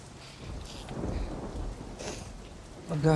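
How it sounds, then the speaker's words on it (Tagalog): Heavy typhoon rain pours steadily outside with low rumbling thunder swelling beneath it, a dense continuous wash of noise, with a brief voice-like sound near the end. "Malakas ho ang bagyo sa labas."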